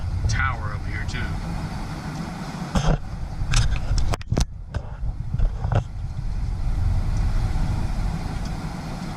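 Steady low road rumble of a car cruising near Indian Springs and Creech AFB, heard from inside, with a few bumps and clicks and people talking over it throughout.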